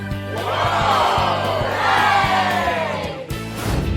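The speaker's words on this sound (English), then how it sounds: "the whole family clapped and cheered" Peppa Pig's cartoon family raises a loud, rising group cheer of whooping voices over a steady musical tone, fading briefly before swelling again.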